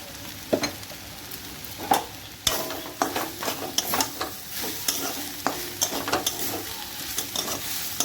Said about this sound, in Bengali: জল শুকিয়ে ভেজে নেব